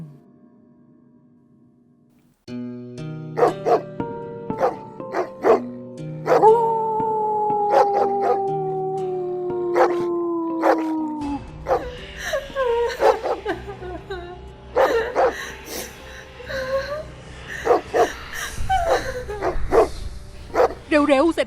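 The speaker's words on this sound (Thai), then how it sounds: "หมาเห่าเยอะแยะไปหมด" Several dogs bark and howl on a night scene at the Bang Pakong bridge, rapid sharp barks layered with drawn-out rising howls, loud and close, over a low rumbling background and occasional voices.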